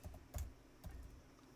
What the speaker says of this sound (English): start typing in device and pulling that up